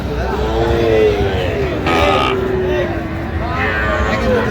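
A Sahiwal bull at a livestock market in Chattogram gives a long, fairly loud moo. Crowd babble and voices fill the background, and another shorter call follows.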